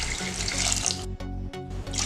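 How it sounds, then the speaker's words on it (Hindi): Water poured steadily into a pan of spiced vermicelli, a loud continuous splashing stream with the tone shifting as the pan fills, no voices. "अब हम इसके अंदर डालेंगे पानी, जितनी हमने सेवई ली है उससे 3 गुना हमने पानी डालना है।"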